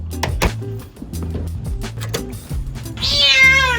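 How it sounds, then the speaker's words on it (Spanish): An albino kitten gives a single clear, fairly loud meow near the end, after a stretch of soft bumps and low background rumble. "Estamos cuidándole el gatito a unos amigos estos días"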